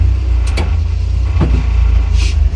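A Renault Twingo idles with a steady low engine drone while the clutch is worked and the gearbox is shifted through the gears, with a few soft mechanical clicks and clunks of the lever on top.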